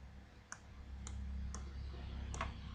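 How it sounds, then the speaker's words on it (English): Sparse, crisp key clicks from a computer keyboard as letters are typed into a spreadsheet cell, four or five isolated taps spaced irregularly over a low steady room hum. "here I am typing ABC like that"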